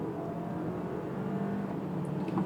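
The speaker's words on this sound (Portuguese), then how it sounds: "Acelerando e saindo. Você percebe que o carro já sai mais bravo." An Audi Q5 plug-in hybrid SUV pulling away hard from a launch start, a steady loud engine and drivetrain roar with a rising whir, close and continuous with no talk.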